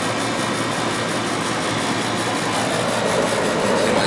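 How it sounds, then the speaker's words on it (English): A residential air conditioning compressor runs during refrigerant charging near an indoor A.C. unit and furnace, giving a loud, steady broadband mechanical roar that holds constant throughout with no talking. "The pressure with the compressor running is higher than the pressure in this tank"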